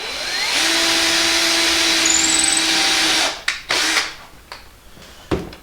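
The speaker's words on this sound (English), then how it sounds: "So I'm going to pre-drill this here so I don't split the wood." A power drill pre-drills a hole in a wood cookie snowman craft, whining steadily for about three seconds at close range, then stopping with a few short clunks and knocks as it is set down.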